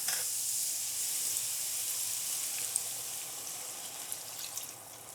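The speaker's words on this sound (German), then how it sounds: "Dann löschen wir jetzt alles mit dem Fischfond ab." A pan of pikeperch with cucumber hissing as fish stock is poured in, giving a steady bright sizzle that fades slightly over several seconds, heard alone.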